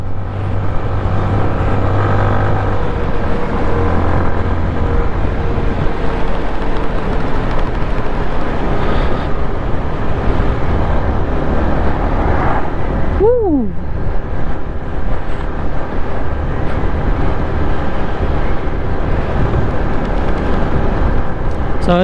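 A motorboat on Lake Sebu runs with a loud, continuous engine drone and steady water rush throughout, up close. A brief rising whine is heard partway through.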